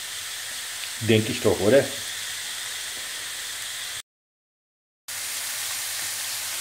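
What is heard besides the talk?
burgers sizzling in a frying pan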